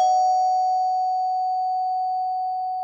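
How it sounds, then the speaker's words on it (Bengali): A flat's electric doorbell gives one sustained, clear electronic tone that rings alone and slowly fades over a few seconds. "নির্দিষ্ট ফ্ল্যাটের কলিং বেল বাজাতেই"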